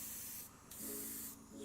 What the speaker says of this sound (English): Spray that little barrel.